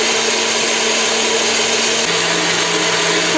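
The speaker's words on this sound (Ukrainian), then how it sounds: "і збиваю ці білки до рихлої піни" An electric hand mixer whirs steadily and loudly whipping egg whites with sugar, its motor pitch dropping slightly partway through as it beats.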